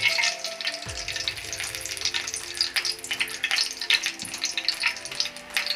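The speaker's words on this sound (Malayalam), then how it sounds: "കടുക് നന്നായി പൊട്ടട്ടെ." Mustard seeds spluttering in hot coconut oil in a pan, a dense crackling sizzle with scattered sharp pops throughout, close and fairly loud.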